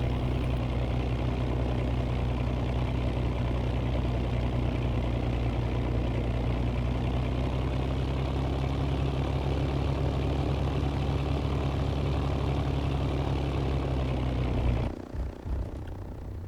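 A simulated World War II aircraft engine in the IL-2 game drones steadily during a landing approach, a constant low rumble that holds for most of the stretch before cutting to a quieter, rougher sound near the end.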